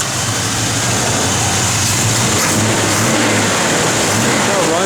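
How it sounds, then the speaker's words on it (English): A 1967 Chevrolet Camaro RS/SS small-block V8 runs close and loud, holding a steady, rough rumble with slight rises in revs throughout. "Good running small block, guys."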